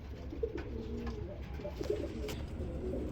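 Pigeons coo softly and repeatedly at a pigeon sale where Bombay Lahori and Rajgolla breeds are offered. The low, throaty calls overlap steadily at close range over a busy background.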